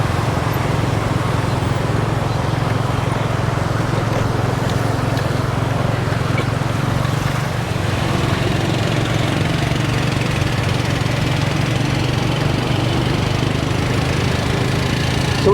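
A tuk-tuk engine drones steadily and close throughout a ride through Phnom Penh, a continuous low motor rumble with traffic noise around it and no clear breaks.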